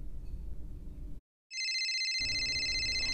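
A telephone rings for an incoming call, a bright electronic trill starting after a brief gap and continuing steadily and loudly over low background noise.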